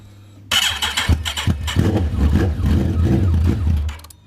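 A Kawasaki ZX14 motorcycle engine turns over and fires for the first time after its cylinder head is reassembled. It catches with a loud burst and runs unevenly up close for a few seconds before cutting out.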